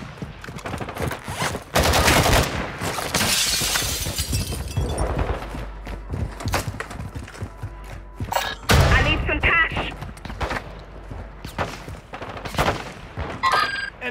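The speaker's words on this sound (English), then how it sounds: "Taking effective fire!" Gunfire in Call of Duty Warzone on Ashika Island: loud bursts of automatic fire, heavy booms and scattered single shots crowd together, with short gaps between the volleys and radio-style in-game voice callouts mixed in.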